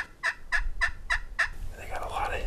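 A rapid series of five wild turkey gobbling calls in quick rhythm, moderately distant, during a turkey hunt, followed by softer rustling and outdoor noise.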